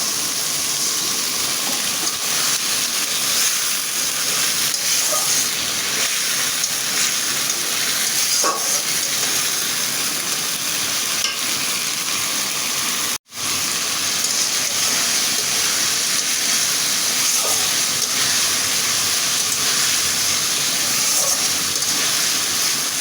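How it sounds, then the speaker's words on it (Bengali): Egg curry frying in a pan as a little water is added, giving a loud, steady broadband hiss and bubbling that runs continuously, broken only by one brief dropout midway. "সামান্য একটু পানি দেবো"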